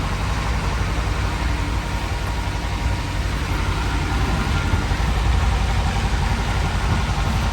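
A 1943 Volkswagen Kubelwagen Type 82 WWII German military vehicle idles steadily, its engine giving a loud, even, rumbling drone throughout with no talking.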